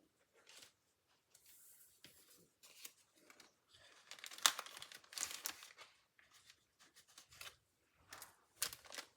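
Scissors snip out a stamped paper floral image for a handmade card, a run of soft irregular cuts and paper rustles, close and fairly quiet, with no talking.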